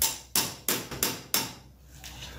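Five sharp hammer blows striking floor tiles to break them loose, spaced unevenly over about two seconds, each a close, cracking impact followed by a short, fading clatter.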